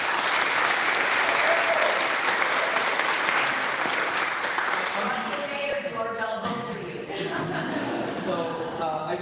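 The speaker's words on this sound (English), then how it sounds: "So we can just give him another round of applause for it." Audience applause at a community meeting about the Fernald, a dense steady wash of many hands clapping throughout, loud and close, with some voices and crowd noise rising toward the end.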